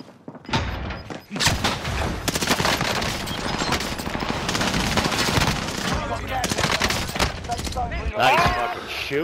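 Rapid automatic gunfire in Warzone on Rebirth Island crackles in dense bursts for several seconds, loud and close, with a player's excited voice breaking in near the end.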